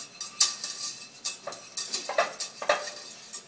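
A spoon scrapes and clinks against a pot while flour is stirred into a roux, producing a series of close, uneven metallic taps and scrapes over a soft sizzle.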